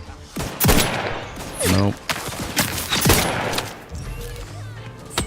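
Gunfire in The Outer Worlds 2, several loud sharp shots spaced irregularly with impact crashes between them, up close, with a voice speaking briefly between bursts.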